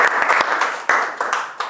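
Audience clapping at a youth Bible quiz competition final round, a short burst of applause from a crowd with uneven claps rising and falling, fairly close and steady throughout.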